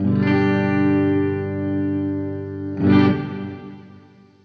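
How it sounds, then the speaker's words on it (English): Plate reverb from the Aural Dream Listen Reverb plugin, applied to a sustained chorused, distorted synth chord that swells at the start, with a second bright attack near the three-second mark before a long decaying tail, with no voices. "I'm really starting to get into plate reverb modeling"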